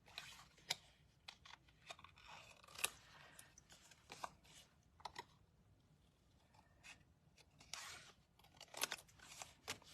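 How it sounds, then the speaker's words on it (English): Scissors snip and crunch through paper cardstock in a card-making session, with irregular close cuts and rustling of the paper throughout, faint and intimate. "let's go ahead and get this one cut out."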